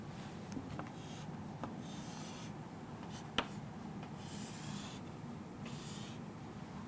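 Marker or chalk writing on a board during a biology lesson: faint scratchy strokes in short bursts over a steady room hiss, with one sharp tap midway and no speech.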